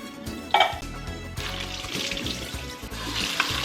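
Canned hominy rinsed under a running kitchen tap, a steady wash of water splashing into a sink with a sharp clatter near the start, no voices.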